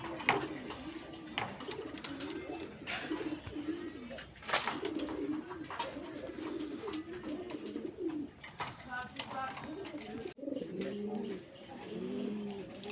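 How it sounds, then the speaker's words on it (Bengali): Native Raj Golla pigeons kept for sale coo repeatedly in low, rolling phrases at close range, with occasional rustles and a faint voice in the background. "বন্ধুরা এখানে আরেক জোড়া কবুতর আছে"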